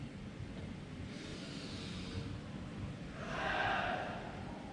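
Two slow, airy breaths, close and soft, the second louder and longer than the first, over a low steady background hum.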